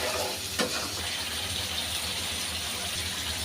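Spices of chili, turmeric, cumin and coriander powder fry in oil with fish in a pan, giving a steady close sizzle with a brief clink near the start.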